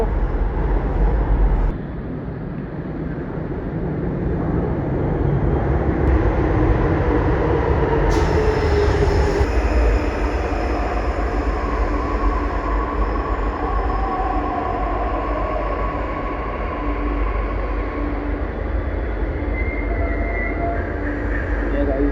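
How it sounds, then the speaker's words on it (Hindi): The Amrapali Express, an Indian Railways passenger express train, rolls past with a steady rumble of wheels on rails, faint squeals and a brief horn-like tone, fairly close and continuous. "अमरपाली एक्सप्रेस, और ये जो अमरपाली एक्सप्रेस है ये चलती है"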